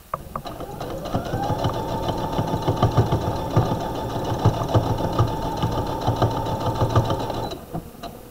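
A sewing machine back tacks across a bag's bottom seam, a close, continuous whirring drone with a steady rhythmic chatter that runs for several seconds before cutting off.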